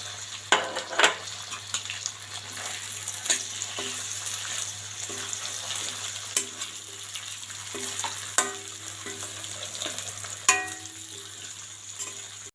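Chopped green chilies and other ingredients fry in a pan for a fried rice and chicken chili dish: a steady sizzle under repeated spatula scrapes and taps against the pan, with no talking.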